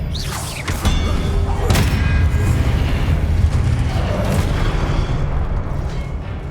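A spell-casting effect from a Hogwarts Legacy game, a deep booming whoosh that swells after a moment and sustains loudly as a rumbling roar before slowly fading.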